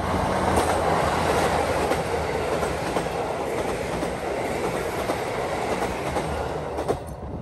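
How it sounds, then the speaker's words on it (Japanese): A JR Central KiHa 85 diesel limited express, the Nanki, roars through Funatsu station on the Kisei Main Line, a loud sustained rush of engine and rolling wheels with faint rail clatter, heard up close from the platform. "やってきました、キハ85型の特急南紀号。"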